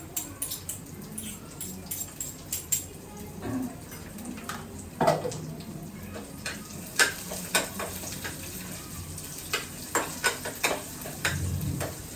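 Phodnicha bhat, tempered rice with onion and turmeric, frying in a pan gives a steady soft sizzle broken by repeated scraping stirs of a spoon, fairly quiet and without talk.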